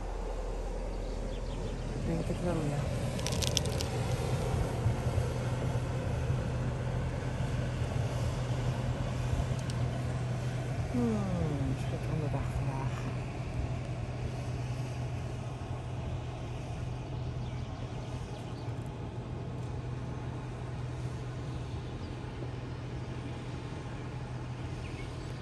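Ship engines on the Van Harinxmakanaal canal, including the sand vessel Zandexpress, give a steady low droning hum throughout, with a brief falling tone as the vessel slows; a short spoken remark and faint birds sit over the engine drone.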